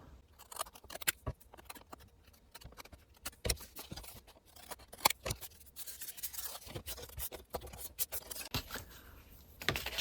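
Scissors snip and trim the edge of a paper stand-up scripture booklet, giving a series of close, crisp cutting and rustling sounds in irregular bursts, with no talking.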